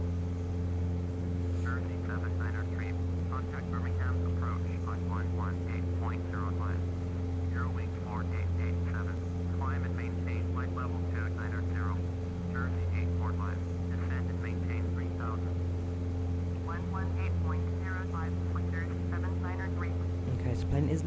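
A steady propeller airplane engine drone in Microsoft Flight Simulator X hums with strong low harmonic tones throughout, while someone talks quietly over it.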